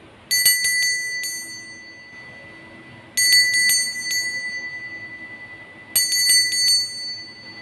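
A bell rings out as a start signal three times, evenly spaced, each strike bright and clear with a lingering metallic ring. It sounds close against a quiet room.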